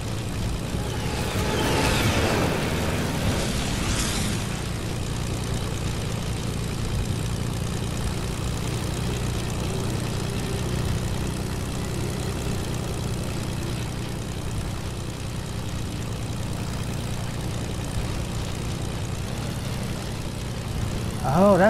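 Propeller plane engine in a multiplayer shooter game, a continuous low droning hum with a steady buzz that carries on evenly throughout, loudest near the start.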